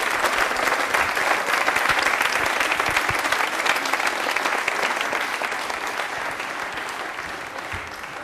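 An audience at a televised yoga special award ceremony applauds for winner Monika Shekhawat with loud, sustained clapping that stays dense throughout and fades slightly toward the end.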